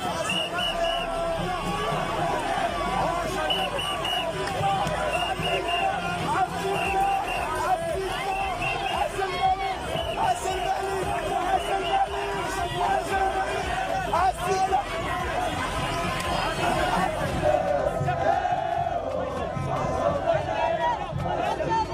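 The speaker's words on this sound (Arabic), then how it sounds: "ونتابع أيضا احتفالات ملك المغرب مع الجماهير في الشوارع" Crowds celebrate in the streets with the King of Morocco: a dense, loud, unbroken roar of many voices cheering and chattering together, holding steady with no quiet gaps.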